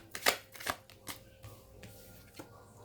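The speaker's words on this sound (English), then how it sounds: "Let's pull another card on that." A tarot card drawn from the deck gives a few short papery swipes and slides, loudest near the start and tapering to softer brushes, close and quiet with no talking.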